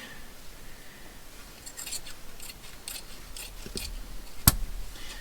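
Scissors snip through fabric and paper while cutting apart a junk journal along a thick seam, a series of short crisp cuts close by in a quiet room, ending with a sharp click.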